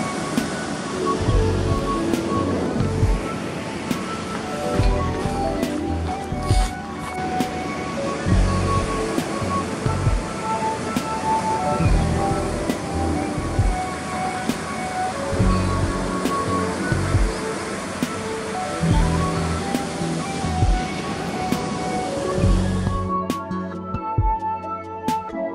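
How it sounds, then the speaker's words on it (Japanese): Small knee-high ocean waves breaking in near-windless conditions at a surf point, dumping close to shore in a continuous roar with repeated crashes, loud and without speech. "ここにこれだけ波入ってれば"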